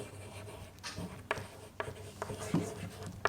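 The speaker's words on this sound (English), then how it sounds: "I am going to write over here" Chalk or marker scratching across a classroom board, a few short strokes with brief pauses between them, close and moderately quiet over faint room noise.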